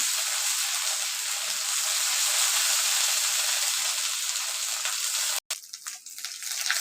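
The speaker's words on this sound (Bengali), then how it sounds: "আদা পেস্টটাকে কষিয়ে নিয়েছি" Ginger paste, with turmeric added, fries in a pan with a loud, steady hissing sizzle that cuts out briefly near the end, then returns rougher and uneven.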